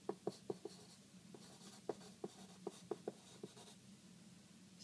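A pencil drawing a graph on paper, heard as a run of sharp little taps and scratchy strokes in irregular rhythm, close and quiet, with no voices.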